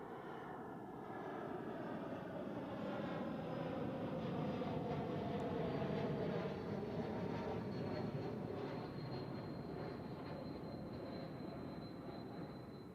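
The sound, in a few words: airliner landing at Zurich Airport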